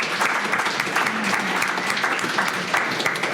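A panel audience at a startup event in the Netherlands claps steadily for several seconds, a dense, even burst of applause with no break.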